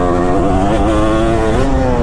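A 2005 Kawasaki KX250 two-stroke dirt bike pulling hard under acceleration, a loud, close, buzzing engine note with the pitch climbing steadily over two seconds, with no talking.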